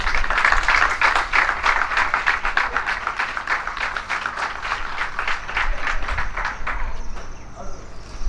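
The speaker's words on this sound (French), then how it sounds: "Et je vous demande de l'applaudir." Audience applause at a ministerial justice speech launch, many hands clapping in a dense, rapid patter that holds steady then thins out near the end, with some voices mixed in.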